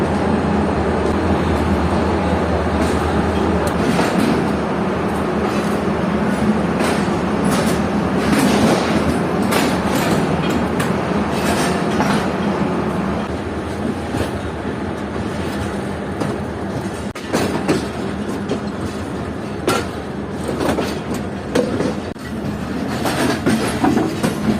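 Passenger train pulling out of a railway station near Karachi, a loud continuous rumble of rolling wagons with rhythmic clickety-clack of wheels over rail joints, heard from on board.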